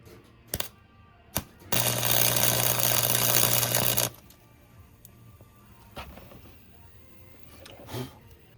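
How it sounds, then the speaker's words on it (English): Tack weld on the exhaust of a BMW 340i with a B58 engine, a single loud crackling buzz of about two seconds, bracketed by sharp clicks and followed by quieter shop noise. "I tack weld this and show you how this works"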